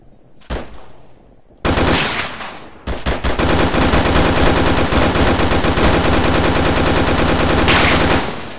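Gunfire in the military video game ArmA III: a few isolated shots, then a loud, sustained stream of rapid automatic fire with overlapping bursts that continues almost unbroken to the end.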